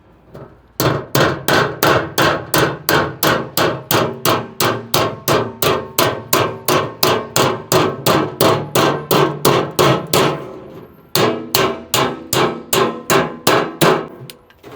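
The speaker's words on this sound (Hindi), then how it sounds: "बस अब इसके ऊपर हथौड़ी से ना वार करा जाएगा।" A hammer beats steadily on a metal part of a Renault Triber camper conversion to straighten it, about thirty loud, evenly spaced ringing blows close by, with one short pause near the end, and no talking.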